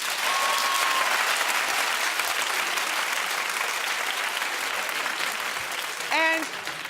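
Sustained audience applause fills a talk-show studio at steady loudness, a dense wash of many hands clapping with a brief whoop near the end.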